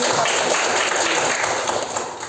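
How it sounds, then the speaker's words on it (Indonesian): Students in a classroom clap together in a loud, dense round of applause that holds steady and tapers slightly toward the end. "Mari kita tepuk tangan."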